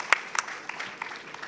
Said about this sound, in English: So I think that alone deserves a big round of applause.